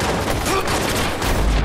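Dense gunfire in the video game Watch Dogs, a loud, continuous fusillade of overlapping shots filling the whole short stretch without pause.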